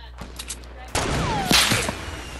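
Fortnite gunfire breaks out abruptly as a dense, continuous volley of shots, loud and close, running to the end.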